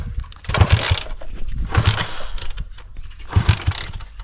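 A small motor newly fitted to an Alfa moped is cranked in three separate bursts, each a rough mechanical whir of about half a second, with short pauses between attempts.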